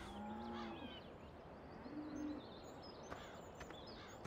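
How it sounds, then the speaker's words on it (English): Cows in a farming video game moo in low, drawn-out calls, one after another, with faint birdsong and light ambient noise in the background. "Got our cows up here. Cows, this is where your cows are."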